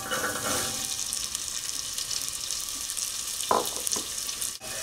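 Mustard and cumin seeds frying in a pan for quinoa khichari give a steady close sizzle with small pops and brief crackles, no voices.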